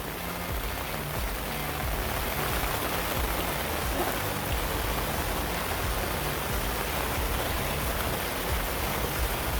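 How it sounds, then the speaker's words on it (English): Steady rain patters on a NaturNest awning, a dense, even drumming hiss that continues unbroken and fairly loud throughout. "yes, it's raining"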